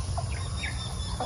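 A few short clucks from chickens at a Philippine farm in Glan, Sarangani, heard at a distance over a steady low rumble of background noise.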